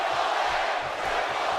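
Wrestling crowd noise from WWE 2K18, a steady dense roar of cheering voices that fills the whole short stretch at an even, fairly loud level with no clear peaks.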